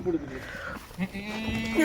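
Goats bleat a couple of times nearby, wavering calls mixed with someone speaking over them.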